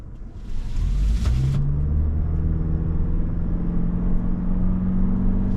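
A 2025 Toyota RAV4 XSE Hybrid with a 2.5 engine pulls away smoothly from a stop, a low engine and road hum rising steadily in pitch as it gains speed, heard from inside the cabin.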